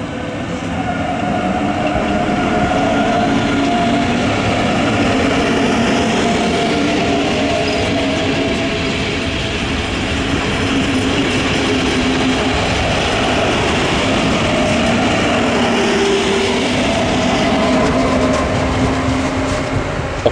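A KISZ suburban train pulls into Dunaharaszti stop from the Délegyháza direction on the old Hungarian line 150 between Ferencváros and Délegyháza, a loud, steady rolling rumble with rail clatter sustained throughout.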